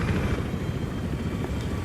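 Helicopter in the Battlefield 3 game on the Operation Firestorm map, a loud, steady rotor-and-engine drone with a dense low rumble running unbroken and close throughout.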